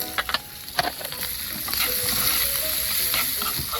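Mushrooms fry in butter in a hot pan, a steady bright sizzle with a few sharp pops and stirring scrapes early on, then the hiss grows fuller and continuous.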